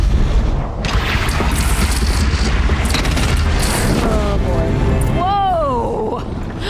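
A bridge is shot down and blows apart in Horizon Zero Dawn, a loud, sustained rumbling boom with crashing debris that fills the whole stretch, and a voice speaks briefly near the end.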